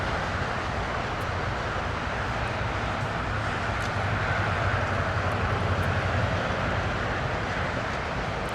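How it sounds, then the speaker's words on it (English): A Delta Boeing 767 takes off at LAX, its jet engines producing a loud, steady broadband roar that holds throughout with little change, heard alone without voices. "So Delta 938 to New York's JFK with a 767 will be our next departure on the north side"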